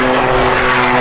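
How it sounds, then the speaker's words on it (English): Loud propeller airplane droning overhead close to an airport, a steady continuous engine roar filling the whole moment with no other sounds. "the planes are really loud because we're right by an airport"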